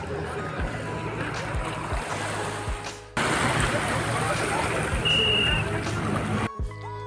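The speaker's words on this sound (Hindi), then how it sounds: "ज़्यादा तेज लहरें नहीं है, अभी तो शांत है एकदम पानी।" Gentle waves wash onto a Mumbai beach near the Gateway of India in a continuous surf hiss, with a short sharp cut about halfway and a faint voice close to the recorder.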